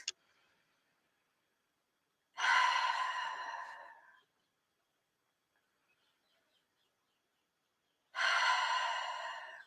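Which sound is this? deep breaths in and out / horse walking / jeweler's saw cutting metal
deep breaths in and out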